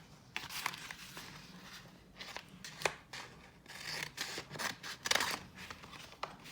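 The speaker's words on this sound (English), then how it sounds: "I'm going to use my scissors and I'm going to trim up" Several crisp scissor snips trimming infusible ink coaster material in irregular bursts, close by, with faint paper rustling between cuts; no talking.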